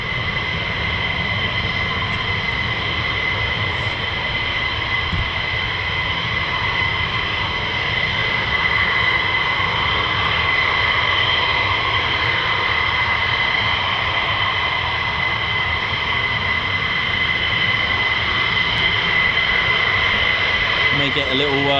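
A Lockheed C-130 Hercules flies overhead near an air force base, a loud, sustained propeller-engine drone with a steady whine that persists throughout, while a person talks over it.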